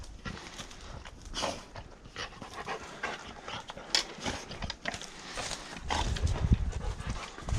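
A hunting dog panting rapidly and steadily up close during a bush stalk, with soft rustling and footsteps around it and occasional low background voices.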